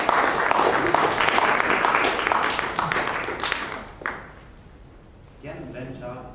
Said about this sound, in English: Please give a round of applause to Sebastian Hirodian.